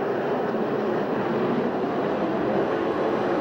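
A USAC/CRA sprint car at Perris, California stays on the throttle with a steady, loud engine roar that holds evenly throughout, with no voices.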